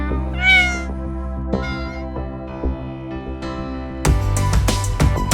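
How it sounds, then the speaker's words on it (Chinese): A cat meows on a morning street in the fishing town of Kuala Kurau, Malaysia: several clear, drawn-out meows with short pauses, close and fairly loud, followed by a busier, louder stretch of sound at the end. "可爱的猫咪。"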